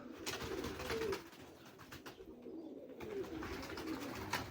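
Pigeons in a loft, birds sitting on eggs in hot weather, give soft repeated cooing calls, faint and fairly close, over a low background hum.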